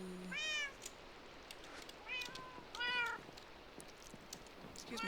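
Minecraft cats meowing in a modded survival world, three or four clear, moderately close meows spaced across a faint steady background hum.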